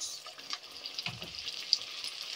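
Masala sauce of tomato sauce, ketchup and barbecue sauce sizzling in a pan as a little water is added, giving a steady soft hiss with a brief low splash midway.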